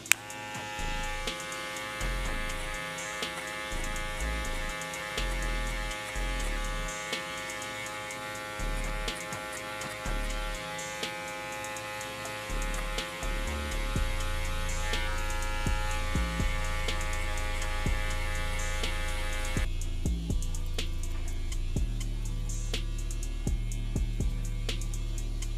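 Electric hair clipper fitted with a number 3 guard, running through a men's fade haircut; a steady, close, droning buzz with faint ticks of cutting throughout.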